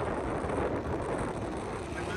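Cold wind blowing steadily outdoors along a road, a constant broadband rush buffeting the microphone with no gaps or distinct events.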